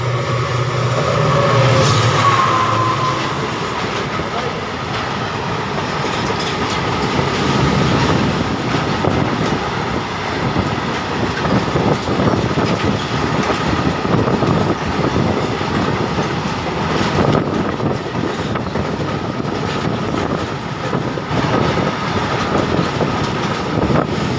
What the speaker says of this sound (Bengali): আমাদের পাশের ট্র্যাকে সিগন্যাল হয়ে গেছে সবুজ, আর ওদিক থেকে চলে আসছে একটা ট্রেন।